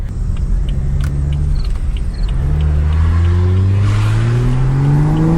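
A BMW F30 335i engine with loud exhaust revs and climbs in pitch, loud and close, with a steady road rumble underneath as the car accelerates.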